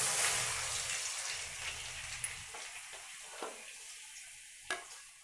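Milk poured over melted ghee heats toward a boil in a pan, giving a soft, steady sizzle and bubbling hiss that fades, with a few faint clinks and taps near the end.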